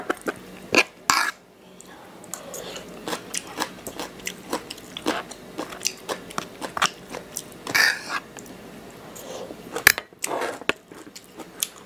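Close, crunchy chewing and biting of som tam made with crisp sweet turnip in place of papaya, with repeated sharp crunches and mouth noises and a few louder bites near the middle, no talking.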